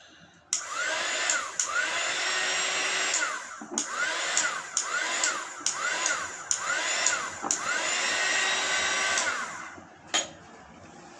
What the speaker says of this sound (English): I've got my heat gun